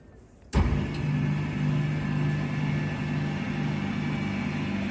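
A motor starts abruptly on a 100-litre explosion-proof sigma mixer with copper blades as its cylinder tilts to discharge resin and fiber material, then holds a steady loud mechanical hum and drone throughout, with no voices.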